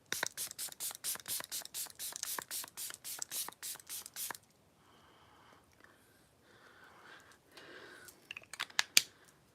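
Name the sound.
spraying Odens Eye Alva face spray serum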